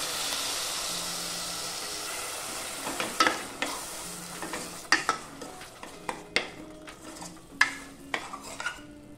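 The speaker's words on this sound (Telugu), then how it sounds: "ఇప్పుడు ఈ టొమాటో జీడిపప్పు పేస్ట్ బాగా వేగనివ్వాలి." Tomato and cashew paste fries in a pan with a steady sizzle, and stirring brings repeated sharp scrapes and clinks of utensil against pan in the second half. No voices are heard.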